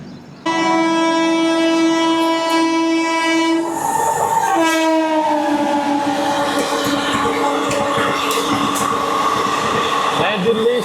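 Indian Railways Dibrugarh Rajdhani express overtaking the Magadh Express at Phaphund station, sounding a long, loud multi-tone horn that shifts pitch as it passes close by, followed by the rushing roar of coaches rolling past.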